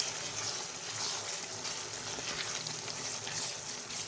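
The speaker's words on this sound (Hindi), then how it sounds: "ये देखें तो माशाल्लाह कीमा बहुत अच्छे से फ्राई हो रहा है। और इसी के साथ हम इसमें ऐड कर देंगे मटर।" Minced keema and green peas fry in a pan with a steady, dense sizzle that continues evenly throughout, close and moderately loud, with no talking.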